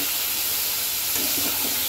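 Green chilies and boiled taro fry in oil tempered with a bay leaf. A continuous, close sizzle and hiss carries a brief stirring rustle partway through, with no talking.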